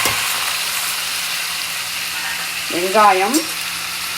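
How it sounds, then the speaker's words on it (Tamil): Steady hot-oil sizzle and crackle of cumin seeds tempering in hot oil fills the clip, with a brief spoken word near the end over the frying. "இப்போ எண்ணெய் நல்லா காஞ்செடுத்து இதில் வந்து நான் ஜீரகம் தாளிக்கிறேன்."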